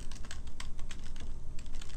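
Steady clattering of computer keyboard keys while text is typed over in a form, rapid close taps layered on a constant background hum.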